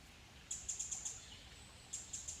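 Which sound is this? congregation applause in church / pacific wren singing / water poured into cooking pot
pacific wren singing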